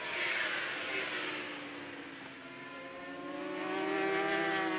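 Kawasaki and Suzuki SuperStock 1000 superbikes racing neck and neck at Grobnik in Croatia, their engines screaming loudly and continuously with rising and falling pitch as they pass.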